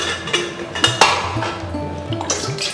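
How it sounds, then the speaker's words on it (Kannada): Pots and a pressure cooker clinking and knocking as water is added for steaming ragi idli in a kitchen, several sharp metallic clanks spaced irregularly over a faint background hum. "ಕುಕ್ಕರ್ ಒಳಗೆ ನೀರು ಹಾಕಿಡ್ಲಿ ರೀ."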